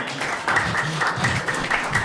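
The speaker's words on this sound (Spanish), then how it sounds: "Un aplauso para el arquitecto Juan Manuel, por favor." An auditorium audience at a talk on Habitat III and the Peruvian state claps steadily for about two seconds, a dense even patter of many hands with no voices standing out.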